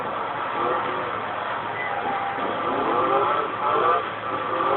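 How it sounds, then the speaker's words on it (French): Car engines in the driving game Crash Time 4: a continuous mid-loud engine drone with shifting revs and tire noise running steadily throughout, with no voices. "Quand vous entendez hein, les bruits de voiture et tout, c'est vraiment bien fait."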